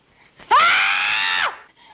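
A woman lets out a single loud, sustained scream lasting about a second, rising sharply then holding steady before breaking off, close and alone against near silence.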